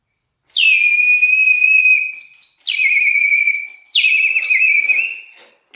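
A terracotta spirit bird whistle blown in three long, loud, warbling bursts, each starting high and sliding down to a steady trilling tone, with short gaps between them and no talk.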